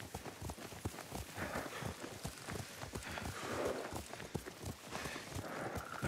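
Horse hooves clip-clop at a steady walking pace while riding in Ghost of Tsushima, close and moderately loud under a low outdoor ambience, with no speech.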